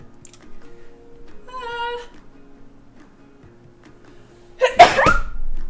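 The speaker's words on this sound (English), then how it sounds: "wait, I have to sneeze." A single sharp sneeze bursts out near the end after a quiet stretch with faint soft background sounds and a brief tone.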